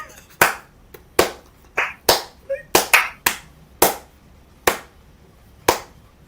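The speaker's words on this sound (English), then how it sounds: "I'm giving them like the slowest claps in history." Slow hand clapping from a single person, roughly ten sharp, close claps spaced unevenly across about six seconds with quiet gaps between them and no talk.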